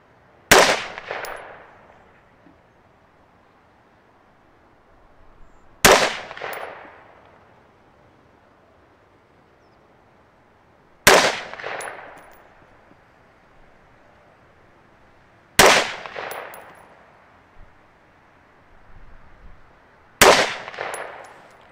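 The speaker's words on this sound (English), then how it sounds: "we're gonna shoot a five shot group at the bottom right hand target" Five rifle shots fired at a target, a Northtac Assault V1 under test at the range: each a loud, sharp crack with a ringing decay, spaced about five seconds apart against near silence.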